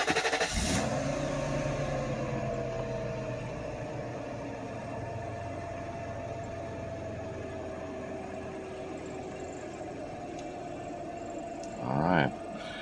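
A 1993 Mercedes 500E, a barn-find project car with a repaired throttle and new lower harness, starts with a brief crank that catches into a steady, loud idle. The engine settles and keeps running evenly, with a short bump near the end.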